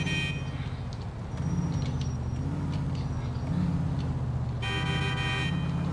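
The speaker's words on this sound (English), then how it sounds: "Yeah, you need to stop beeping" Electronic vehicle horn beeping in GTA IV with the LCPDFR police mod, loud repeated toots over a steady engine drone, with a sharper burst of beeps near the end.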